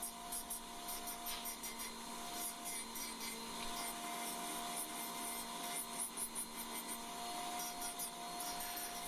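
A Dremel rotary tool grinds fiberglass off a BGA chip, a faint continuous high whine with a gritty abrasive rasp and small rhythmic fluctuations as light pressure is applied.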